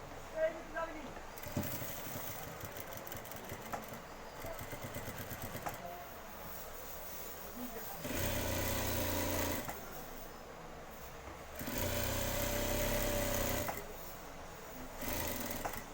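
A sewing machine stitching a panjabi collar whirs in two close, steady bursts of a few seconds each. Before and between the bursts a person talks over quieter handling sounds.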